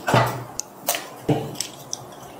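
Cooked pasta noodles being drained, a few soft wet splashes and squishy slaps with small drips in between, close up and without talk.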